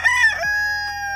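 A rooster crows loudly and close in a backyard camper-style chicken coop, one long harmonic cock-a-doodle-doo sounding alone with no talk.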